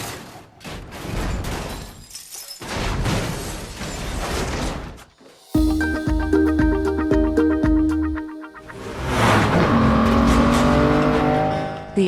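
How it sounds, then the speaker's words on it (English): A 2007 Aston Martin DBS in a James Bond film car chase, with loud engine roars, bursts of rapid gunfire, crashes and impacts, and swelling dramatic score mixed in. "But the action comes from a 2007 Aston Martin DBS"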